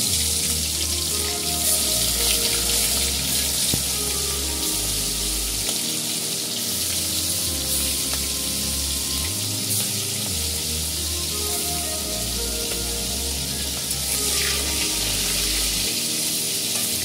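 Fish frying in mustard oil in a wok, a loud, steady hissing sizzle that rises and falls slightly, close up and continuous with no talk.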